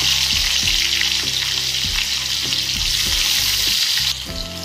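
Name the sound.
cumin and onion frying in hot oil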